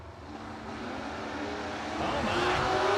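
A Mustang race car at a drag race roars with a broad engine rumble that builds in loudness, its pitch rising as it accelerates, heard over an ambient crowd and announcer din.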